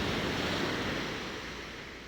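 Sea waves rolling onto the coast of Taiwan, a steady broadband wash of surf with some wind, loud and continuous, slowly easing over two seconds with no voices.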